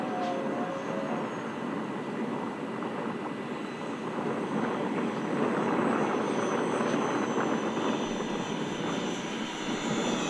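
An RC model airplane with ventral fins flies slow with full flaps into the wind, its small engine droning steadily and fairly close the whole time, with outdoor wind noise underneath.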